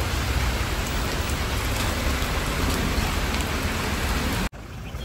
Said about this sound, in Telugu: వర్షం కూడా స్టార్ట్ అయిపోయింది. ఫుల్ వర్షం.